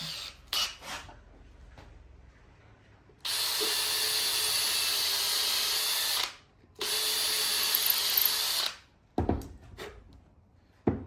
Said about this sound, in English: drill those 2 little holes out